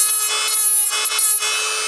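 A Melodysusie Scarlet electric nail drill fitted with a tungsten carbide bit files down a fingernail at high speed, giving a close, steady high-pitched whine with a grinding rasp that pulses slightly as the bit moves across the nail.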